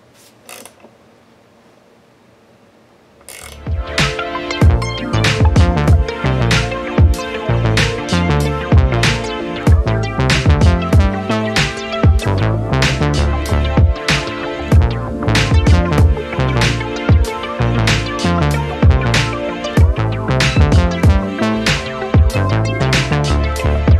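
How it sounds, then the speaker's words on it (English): Hand tap cutting M6 threads into drilled holes in a throttle body adapter that mounts a 65mm LX5 throttle body on a 3500 V6 gives a loud run of quick, rhythmic ratcheting clicks and creaks, steady and unbroken. "So now I'm ready to cut some threads in there. Now I got my holes drilled, just gotta tap them."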